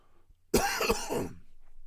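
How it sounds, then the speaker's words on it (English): A single harsh cough bursts out close by, followed by a short raspy throat-clearing sound, then quiet. "I'm really sorry. I'm coughing."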